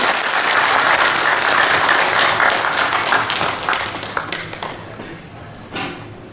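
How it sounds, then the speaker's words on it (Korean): Sustained audience applause at a citizens' rally for a peace culture memorial hall in Chuncheon, a dense wash of many hands clapping that gradually thins and fades toward the end. "다시 한번 박수 부탁드리겠습니다."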